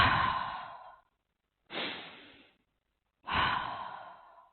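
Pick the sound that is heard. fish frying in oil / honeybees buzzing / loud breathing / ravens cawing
loud breathing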